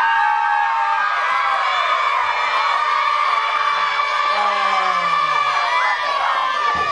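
A crowd of children at a book-award ceremony in Andalo shouts and cheers loudly and continuously for the whole stretch, a dense sustained roar of young voices with whoops rising over it.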